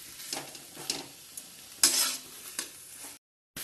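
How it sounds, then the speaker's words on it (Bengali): Capsicum is tossed into a pan of spiced fried potatoes, producing a soft sizzle with intermittent bursts of stirring and scraping. It ends in a brief moment of silence. "এখন লাস্টে ক্যাপসিকামগুলো দিচ্ছি"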